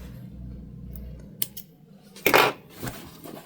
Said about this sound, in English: And then we'll trim our threads.